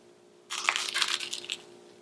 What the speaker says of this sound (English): now I'm gonna give the sandwich a try